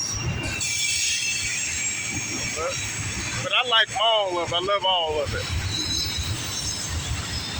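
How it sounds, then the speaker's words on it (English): A northbound CSX autorack freight train rolls past, with steady rumbling and high wheel squeal throughout, while someone talks over the noise. "This autorack's for you, buddies."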